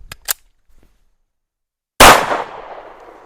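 A pistol fires a single loud, sharp shot of Winchester White Box 115 grain ammunition after a couple of faint clicks, followed by a decaying echo and then quiet, consistent with the gun jamming.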